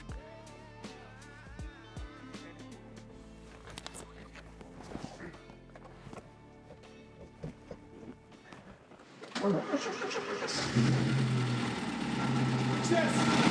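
An Alfa Romeo 75 2.0 Twin Spark, recovered as a barn find, cranks and catches late on, then runs loud and steady close by after a stretch of quieter handling and shuffling noises.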